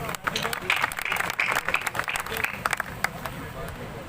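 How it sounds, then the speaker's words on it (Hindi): Steady applause from an audience at a Hindi poetry gathering, a dense wash of clapping that holds for several seconds with light crowd murmur underneath. "एक बार तालियां बजा दीजिए।"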